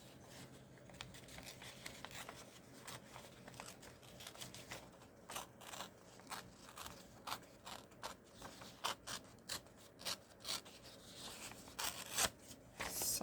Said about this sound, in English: Just very loosely fussy tearing these images